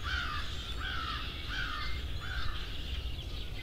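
Crows caw outdoors in a run of about five harsh calls at a steady rhythm, set against a constant windy outdoor background, with no talking.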